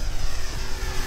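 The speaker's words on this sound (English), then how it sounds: "All right, this is full power, LiHV 3S" An electric RC J-3 Piper Cub foam model plane, 1400mm span, runs at full power on a 3S LiHV battery into the wind, its propeller giving a steady close buzzing drone with no pauses.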